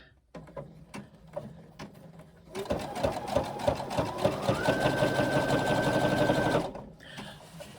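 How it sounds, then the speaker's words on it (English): A sewing machine zigzag-stitches within the seam allowance around the edge of a foam backpack body piece. A few soft handling knocks come first, then a loud, close, steady run of rapid stitching lasts about four seconds before stopping abruptly. "what we do is zigzag within the seam allowance right around the edge of that body piece"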